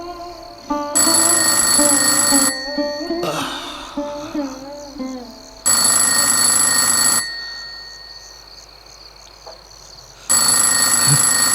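An old-style telephone bell rings loudly in long repeated bursts separated by pauses in a radio drama, with a voice speaking between the rings.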